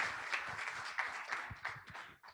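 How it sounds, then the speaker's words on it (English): Audience applause at a Noor Takaful insurance company surplus distribution event, a moderate, steady patter of many hands clapping for a couple of seconds before tapering off. "the company deserves a better round of applause"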